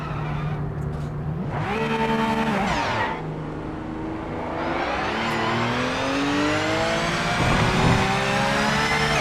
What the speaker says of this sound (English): Quality sound on these cars too.